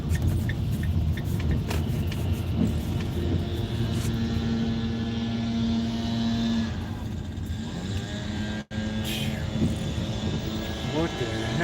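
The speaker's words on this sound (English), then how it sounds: "This guy's running a blower?" A leaf blower runs nearby outdoors as a steady, loud engine drone with a sustained tone, continuing under a voice with one brief dropout partway through.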